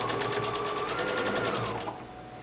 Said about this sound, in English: we're going to take this to the machine and we're going to straight stitch at 5/8 inch